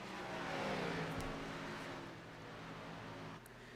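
Race cars circling Dover in a sim racing video game, a loud continuous engine drone from a car close by that holds steady, then dips slightly near the end.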